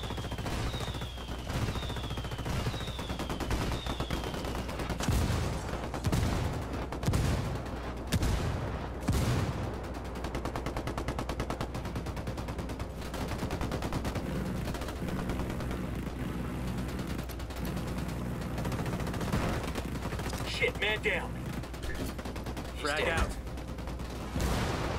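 Indirect gunfire in the video game Codename Matchwood: sustained bursts of automatic weapons and thumping artillery blasts over a constant low rumble, with a few electronic beeps near the start and a voice talking now and then.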